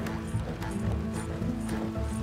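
Horses gallop in a video game, a dense, loud run of hoofbeats pounding close and continuously, with no break in the rhythm.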